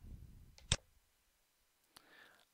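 Two computer mouse clicks sound, a sharp, close click near the start and a fainter one later, each followed by soft rustling in an otherwise quiet room.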